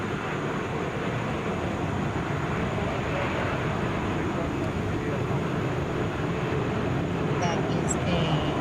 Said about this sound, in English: Delta Flight 727 to Seattle,